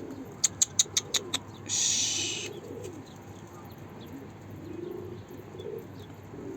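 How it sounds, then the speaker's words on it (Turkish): Two pet birds indoors give a quick run of five or six sharp chirps followed by a short hiss-like burst and soft low cooing murmurs, fairly close and quiet. "Şu güzellikte iki tane kuşumuz."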